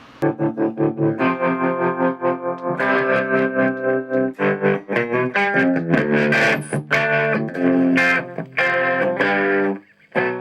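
A distorted electric guitar plays thick chords and phrases through heavy effects, with chorus-like shimmer and sustained, crunchy tone throughout.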